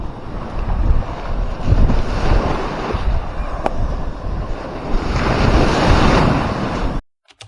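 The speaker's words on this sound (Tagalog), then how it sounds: "Ayan, ito yung dagat." Surf washing onto the seashore, a steady broadband roar of breaking waves with gusting wind noise on the microphone, continuous and fairly loud before cutting out abruptly near the end.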